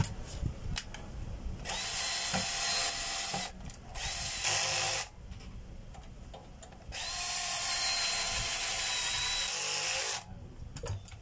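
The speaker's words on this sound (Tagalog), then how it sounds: "lalagyan natin ng kahit dalawang screw lang" A power drill drives screws into wood, with two long whirring runs and shorter bursts between pauses, close and loud, ending in a few brief taps.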